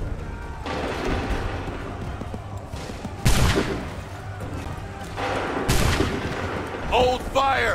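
Musket volleys in an Assassin's Creed III battle at Lexington, two sharp loud cracks of massed fire bursting out over a rumbling battlefield din, with a voice calling out near the end.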